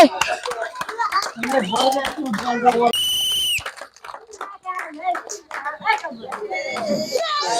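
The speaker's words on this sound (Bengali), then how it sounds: "সবাই জোরে হাততালি" A village audience claps during a game of rolling a ball across a bamboo bridge, with children's chatter, nearby talk and a brief whistle blast mixed in with the clapping.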